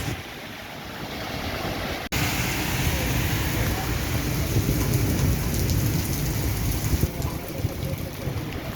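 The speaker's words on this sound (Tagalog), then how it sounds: "Grabe, lakas ng ulan." Heavy afternoon downpour with thunder in the UAE, a loud continuous roar of rain hitting surfaces nearby, with a sharp crack early on and a deep rumble building beneath the steady wash.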